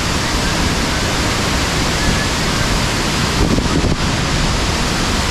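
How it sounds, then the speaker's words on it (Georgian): Rachkha waterfall, one of the largest in Georgia, roars as a steady, loud broadband rush of falling water, continuous and close throughout with no pauses. "ესეც ჩანჩქერი რაჩხა ულამაზესი უდიდესი და ყველის მომწრელი სანახაობა"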